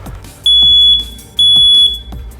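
Smoke alarm being tested, two loud piercing beeps in quick succession, each lasting under a second, with faint background noise between them.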